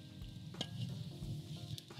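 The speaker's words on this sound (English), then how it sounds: "It's a lovely sizzle." Chicken searing in hot oil in a pan gives a steady, close sizzle with soft crackling throughout, with no talk.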